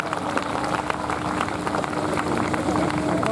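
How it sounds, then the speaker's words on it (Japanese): Continuous, even applause from the audience at a DOTAMA special talk show and live event, sent off to two guests, footballers Mu Kanesaki and Hiroto Ishikawa. A moderate, rain-like patter of many hands, with no voices. "お二人に大きな拍手お願いします"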